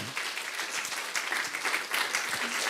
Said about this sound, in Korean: 예배 때 우리 박수 한번 칩시다